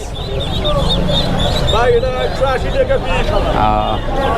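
Chickens cluck and ducklings peep amid a busy, noisy crowd at a livestock market, with people chattering throughout.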